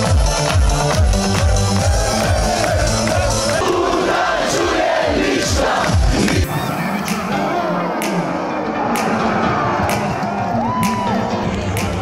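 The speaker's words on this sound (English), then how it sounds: "go catch the World Cup final in the town square and experience that proud Croatian spirit and cheer for our new favorite team" A large, dense crowd packed into a town square in Split, Croatia, roars and chants through the 2018 World Cup final, loud and continuous, with shouts and horn blasts rising out of the din.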